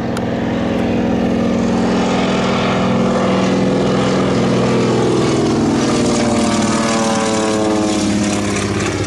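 A low-flying crop duster airplane passes overhead, its propeller engine a loud, steady drone heard from inside a house, with the pitch shifting as it sweeps by at close range and no voices.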